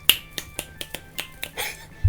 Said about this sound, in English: I just like snapping my fingers.